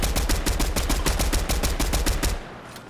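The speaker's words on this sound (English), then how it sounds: "You're getting shot from out there." Rapid bursts of automatic gunfire in a multiplayer shooter game, a steady loud stream of sharp shots that cuts off abruptly near the end, with no talk over it.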